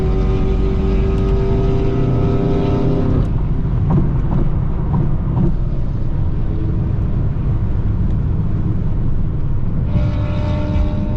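A BMW M6 cruising with other BMW M cars drones loudly from close inside, its engine note rising then dropping as it shifts gears, followed by steady road rumble and another climb in revs.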